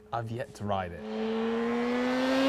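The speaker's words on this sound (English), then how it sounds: "It's a two-stroke, it wants to be revved" A Suzuki RG500 two-stroke motorcycle engine revs upward in a rising, buzzy whine that climbs steadily and grows louder after a short spoken phrase.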